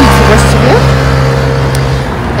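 Car traffic on a Paris street, engines humming and a vehicle passing close by with a rising then fading drone, loud and continuous, with a voice talking over it.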